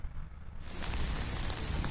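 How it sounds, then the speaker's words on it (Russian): Rain falls around someone walking out of a metro station, starting as a quiet hush and then swelling after a moment into a dense, steady patter close by. "Вышла из метро, и сейчас, да, дождик. Иду с зонтиком."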